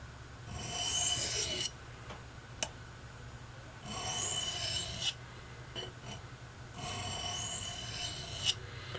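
A knife blade rasps across a 400 grit whetstone in three long, steady gritty strokes separated by quiet pauses, close and clear with no talking.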